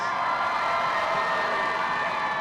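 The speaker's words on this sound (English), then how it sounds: "Let's give them a round of applause." A stadium crowd at a high school football halftime show cheers and applauds for the marching band, a steady, distant wash of voices and clapping that holds level throughout.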